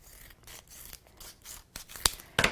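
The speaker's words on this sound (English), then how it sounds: "on the back of this, we're going to add some mounting foam. So let's cut a couple of pieces." Scissors snip through mounting foam for a die-cut embossing craft, a series of close, crisp cuts and rubbing strokes that grow louder toward the end, with no talking.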